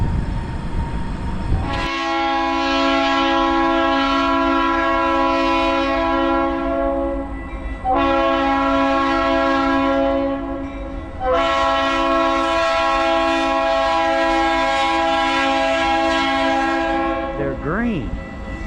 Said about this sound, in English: Ooh, train's coming.